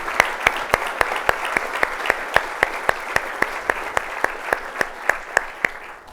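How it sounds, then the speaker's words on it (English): Audience applause for conference sponsors during the BCC 2024 keynote, heard as steady clapping across the hall with a few sharper individual claps standing out, sustained and even in loudness throughout with no talking. "please recognize them, give them a loud applause"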